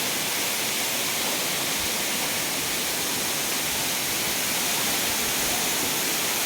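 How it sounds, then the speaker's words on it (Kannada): Waterfall seen on the road to Cherrapunji, a steady broadband rush of falling water filling the whole clip at moderate level with no voices. "ಇದು ಚಿರಾಪುಂಜಿಗೆ ಹೋಗುವಾಗ ಫಾಲ್ಸ್ ನೋಡಿ ಎಷ್ಟು ಚೆನ್ನಾಗಿ ಬೀಳ್ತಾ ಇದೆ"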